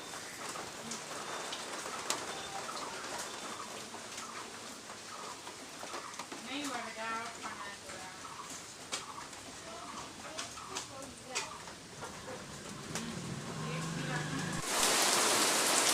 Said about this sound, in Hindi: ऐसे ही सुबह से कंटिन्यू बारिश हो रही है और हवा के साथ हो रही है।